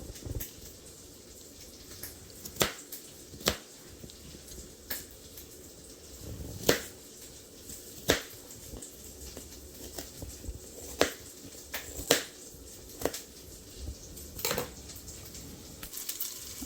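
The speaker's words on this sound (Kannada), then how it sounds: "ಇನ್ನು ಸ್ಪ್ರಿಂಗ್ ಆನಿಯನ್ನು ಕೊತ್ತಂಬರಿ ಕಟ್ ಮಾಡ್ಕೋಬೇಕು" A kitchen knife chopping spring onion and coriander for Indian-style fried rice, sharp irregular knocks on a cutting board spread across the stretch, some close and loud, with faint background noise between them.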